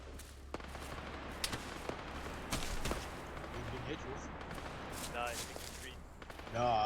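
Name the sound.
light infantry gunfire in military mission video game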